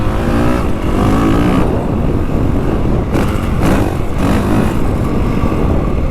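A 2025 Honda CRF450R Works Edition motocross motorcycle engine roars continuously under load, loud and close, its steady throttle tone rising and falling slightly with brief surges and no talk.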